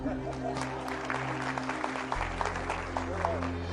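Scattered applause from an audience rises under a low musical drone, moderate and somewhat distant, continuing for a few seconds.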